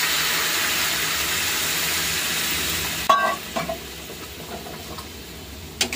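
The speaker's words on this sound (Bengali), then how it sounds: "গরম জল দিয়ে দিচ্ছি" Hot water hits a frying pan coated with leftover oil, bursting into a sharp hiss and sizzle that settles into softer crackling bubbles, with a few clinks of a utensil; no talking.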